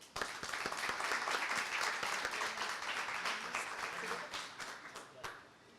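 An audience applauds with a dense burst of clapping that holds steady, then thins out to a few last claps as it fades.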